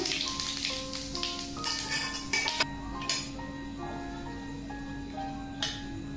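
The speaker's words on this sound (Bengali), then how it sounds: "শুকনো লঙ্কা, তেজপাতা দিয়ে দিলাম। জিরে দিয়ে দিলাম।" Dry red chillies, bay leaf and cumin sizzle in hot mustard oil for a gravy, a close, steady frying crackle with scattered pops and small clinks of a utensil, no one speaking.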